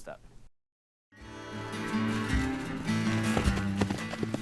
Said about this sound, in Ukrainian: потужні, дикі і під загрозою зникнення боснійські гірські коні